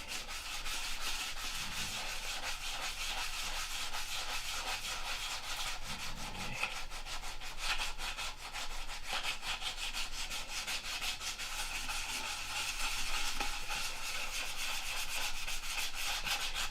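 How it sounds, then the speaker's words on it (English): Fine sandpaper rubs back and forth over glued-up wood in a continuous, close scratchy hiss with rapid repeated strokes, steady in level throughout, with no talk. "when we sand it with this finer sandpaper, it'll make those lines more predominant, the glue lines"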